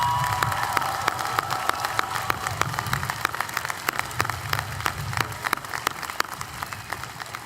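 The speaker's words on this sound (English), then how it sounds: "Give them a round of applause, please." Steady applause from a crowd at a high school graduation ceremony, dense overlapping claps with a few sharper hand claps standing out, sustained throughout.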